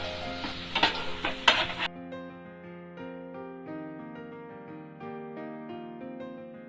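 Onions frying to golden brown in a pan over a medium flame for a Bengali fish korma, giving a steady sizzle with a few stirring clicks for about two seconds before music takes over.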